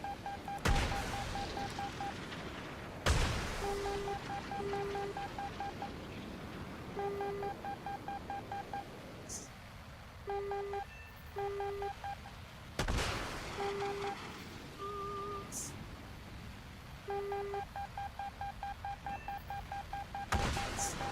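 Jet aircraft in War Thunder sound a missile lock-on alarm as a beeping tone in short repeated pulses, broken by loud distant blasts from launches and hits.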